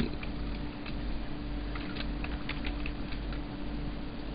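Quiet keystrokes tap on a computer keyboard in short irregular bursts, faint against a steady low hum.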